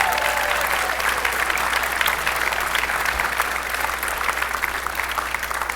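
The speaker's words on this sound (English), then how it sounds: "Can we have another round of applause for our extraordinary students of the Neshaminy High School Orchestra program" Sustained, dense applause from a concert audience at a high school orchestra performance, steady and loud throughout, with faint crowd murmur and a low hum underneath.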